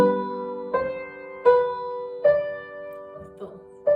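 Piano chords struck one after another, about six in four seconds, each ringing briefly before the next, played alone at moderate volume.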